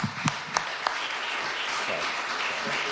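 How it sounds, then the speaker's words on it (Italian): An audience claps for alpine skier René De Silvestro at an awards ceremony, with steady, dense applause and a few sharper claps near the start. "Un grande applauso."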